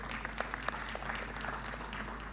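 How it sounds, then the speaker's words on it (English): An audience at an NSSF annual members' meeting claps for the staff, a brief burst of moderately distant applause with individual claps audible. "Can you clap for the staff of NSSF?"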